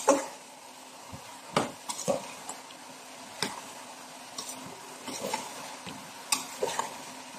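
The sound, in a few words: stirring garlic and hot peppers in a frying pan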